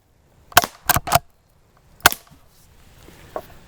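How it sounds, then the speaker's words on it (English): Several suppressed .22 gunshots ring out as sharp, muffled cracks: three in quick succession, then one more after a pause, followed by a faint distant pop. "Now for the 22 suppressor, quite a bit smaller, barely larger than the barrel itself in width"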